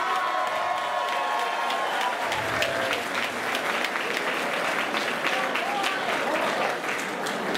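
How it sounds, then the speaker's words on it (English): Loud, sustained crowd applause and cheering fill a venue after a white collar boxing bout between two women. The roar of clapping and shouts carries on unbroken, with voices rising and falling over it. "these two ladies deserve a massive round of applause anyway."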